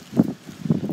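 Strong wind gusting through a snowy night storm during a power outage, a low rumbling roar that swells and fades in uneven surges, close and buffeting, with no talk.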